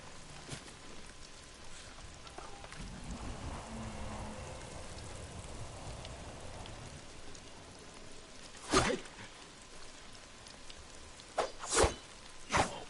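Steady rain in Ghost of Tsushima hisses softly throughout, at night, with a few sharp cracks and thuds cutting through near the end; no talking.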